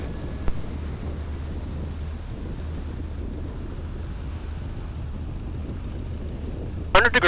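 Small airplane taxiing along a runway in 100-degree heat, a steady low engine drone with cockpit rumble throughout and a brief burst of noise at the end.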